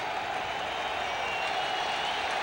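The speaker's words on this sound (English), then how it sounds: "The crowd already rocking and rolling for Wagner." A baseball stadium crowd roars for New York Mets pitcher Wagner on Opening Day 2006 against the Nationals, a continuous loud wash of cheering and clapping with no breaks.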